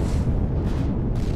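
A turret blows up in the space survival game Empyrion Galactic Survival, a loud, dense, rumbling explosion that fills the short moment with sustained low boom and noisy crackle.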